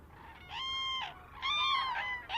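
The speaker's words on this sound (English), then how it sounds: "the birds do call loudly when they sight the lagoon" Cranes stopping over at a lagoon during migration give two loud, ringing honking calls, one after the other, near and clear over a quiet outdoor background.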